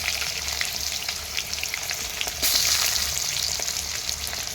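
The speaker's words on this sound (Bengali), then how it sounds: "এবারে কড়াইয়ে আলুটাও দিয়ে দিলাম। আলুগুলোকে বেশ লাল লাল করে ভেজে নেব।" Potatoes fry in hot mustard oil in a wok with a steady, crackling sizzle that swells louder about halfway through as the pieces settle and bubble, with no voices.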